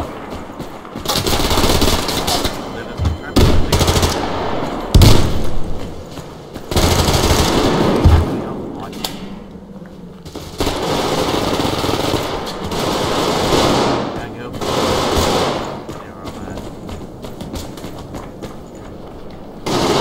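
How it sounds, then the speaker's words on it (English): Rapid assault rifle bursts ring out in the Survarium shooter game, loud and repeated in clustered volleys with short gaps, over a busy backdrop of other in-game noise and impacts. "Fucking assault rifle."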